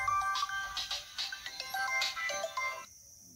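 A mobile phone ringtone plays as a bright, repeating melodic tune for about three seconds and then cuts off abruptly, with no voices over it.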